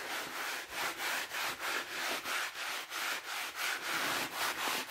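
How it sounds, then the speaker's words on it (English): An absorbent shop towel rubs firmly back and forth across a painted canvas, wiping off paint in a steady rhythm of about a dozen close, loud scrubbing strokes with no talk. "rub the canvas"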